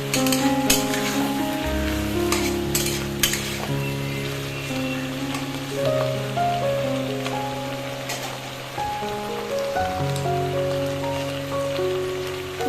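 Vegetables releasing water sizzle steadily as they are stirred in an uncovered pan, a dense crackling hiss with occasional stirring taps, heard beneath background music.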